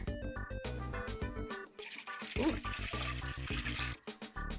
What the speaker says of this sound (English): In this big bowl, we will mix water